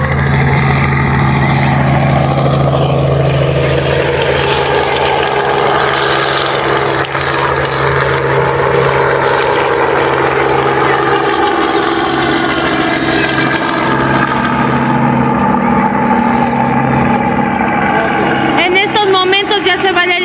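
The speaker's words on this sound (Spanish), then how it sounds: "ahora vamos a ver acá nuevamente el helicóptero. Al parecer se va a elevar" A helicopter lifts off at an Easter egg event in Dayton, Ohio, its engine and rotor making a loud, steady roar that fills the whole stretch, with voices faintly underneath.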